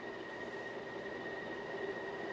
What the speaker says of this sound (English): Hear a little bit of bearing noise, but not nearly as bad as I thought it was going to be.